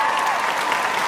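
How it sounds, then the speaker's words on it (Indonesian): A debate audience applauds and cheers in a steady, dense wash of clapping that holds at an even loudness throughout. "Hadirin, tahan sorakannya hadirin."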